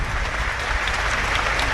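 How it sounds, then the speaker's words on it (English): A football crowd at a York City versus Woking National League match applauds a substituted player, producing a dense, steady wash of clapping with no breaks. "He deserves this round of applause, Ollie Pearce."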